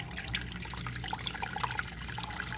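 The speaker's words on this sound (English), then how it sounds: "just pour my warm water" Warm water poured into a bowl for Nigerian moi-moi bean cake, a soft continuous trickling and splashing throughout, faint and close, with no voices over it.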